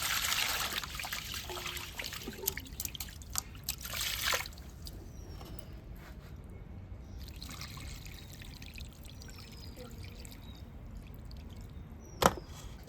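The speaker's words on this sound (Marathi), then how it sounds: "दोन ते तीन पाण्याने आपण तांदूळ स्वच्छ धुवून घेऊया" Water trickles and splashes as rice is swished around in it, quiet and close, with a few brief clinks and sloshes.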